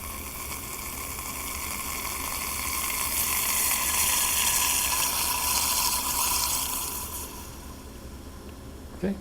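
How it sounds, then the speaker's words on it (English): Steady broadband hissing of liquid nitrogen boiling while filling a Vitrobot ethane cup, swelling in the middle and then fading, with a low bubbling rumble underneath and a brief knock at the end. "So you saw that was a sudden heavy boiling and a hissing sound."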